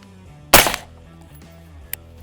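A single sharp rifle shot fired at a box test target, close and loud with a short decaying tail, followed by a faint distant crack about a second later.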